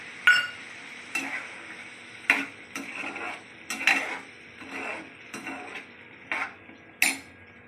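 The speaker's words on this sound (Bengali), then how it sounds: "এটা আবার আমি ঢেকে ঢেকে ভেজে নেব" White mushrooms with chilli, salt, turmeric and a splash of water fry in a covered pan, giving a soft sizzle broken by a series of sharp clinks and scrapes of a lid or utensil at irregular intervals.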